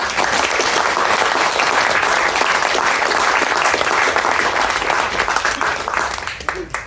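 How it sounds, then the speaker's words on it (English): An audience at a landscaping question-and-answer session breaks into loud, full applause that stays dense and even, then begins to thin near the end as a voice comes in. "round of applause, please"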